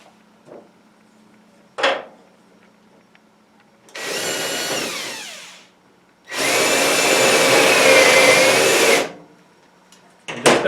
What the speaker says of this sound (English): using maybe a Forstner bit or a larger drill bit